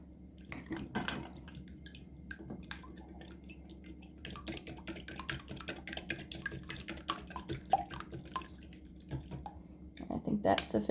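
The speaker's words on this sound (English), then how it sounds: "So first we're going to go ahead and beat this egg together" An egg is beaten with milk for a blueberry pie, producing quick, irregular clicking and tapping of a utensil against a bowl with light liquid sloshing, fairly close, with a voice speaking in the background.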